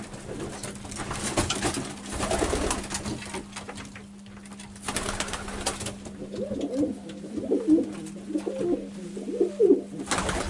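Racing pigeons coo softly and repeatedly in a loft, their low murmuring calls rising and falling over a steady background hum, with no talk.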